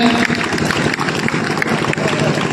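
Audience applause greets the guest Sadhuram ji as he is brought to the stage at a commemoration gathering. The clapping is dense, loud and steady, with a crowd murmuring underneath.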